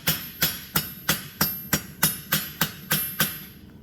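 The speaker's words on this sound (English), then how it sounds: "So if I use the round side of this hammer, I can get up in that corner." Round side of a hammer striking metal blacksmith tongs, ten sharp ringing blows at a steady rhythm about three per second, close and clear with no talk.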